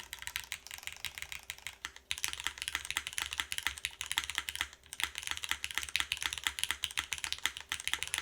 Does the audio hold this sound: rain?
no